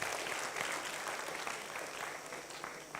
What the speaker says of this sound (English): Okay, let's give a round of applause to her as well.